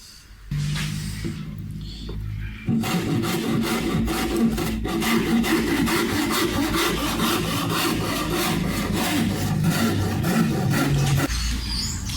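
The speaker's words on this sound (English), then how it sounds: "using my Shinto saw rasp, I've really attacked the back and gotten it down to what looks like about the right thickness" A Shinto saw rasp shapes the back of a wooden Fender-style guitar neck, giving close, steady, rhythmic rasping strokes that run continuously for most of the stretch after a brief quieter start.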